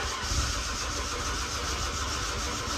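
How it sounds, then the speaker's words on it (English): A '90s Acura engine cranks while someone tries to start it, a steady, fairly loud mechanical churn heard close up without a break for the whole short stretch. "Try starting it again. Just keep cranking."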